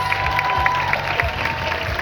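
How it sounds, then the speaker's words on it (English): A ceremony audience applauds its parish leaders with a steady wash of clapping that holds evenly throughout, and a few voices murmur underneath. "Ladies and gentlemen, please give another round of applause for our 11 parish leaders."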